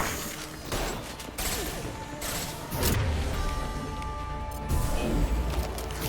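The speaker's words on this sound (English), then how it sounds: "Firing an impact shot!" Heavy gunfire from an impact shot in the video game Mass Effect: loud, dense blasts and crashing impacts rumble on without a break, with sharper bursts around the middle and near the end.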